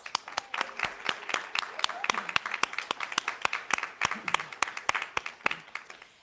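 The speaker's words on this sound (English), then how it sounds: "And now, a round of applause for the faculty mentors." An audience claps at a student scholarship celebration closing event, a round of applause for faculty mentors: sparse, separate hand claps at a moderate distance, steady for several seconds and then thinning out.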